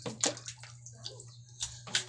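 Water splashing and sloshing in a home bathroom during house cleaning, heard as several quick, close splashes at an irregular rhythm over a low steady hum.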